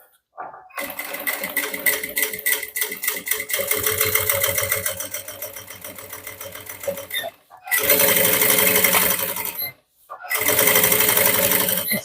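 Sewing machine topstitching a handmade bag about 3 mm from the edge, loud rapid stitching in three bursts separated by brief pauses.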